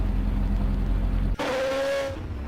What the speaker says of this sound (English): Oh, and I can see the car.